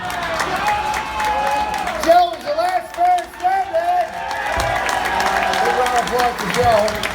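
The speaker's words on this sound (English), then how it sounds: "Big round of applause" At a fan contest in Las Vegas, an audience claps and cheers beneath an amplified host's voice and background music in a large hall.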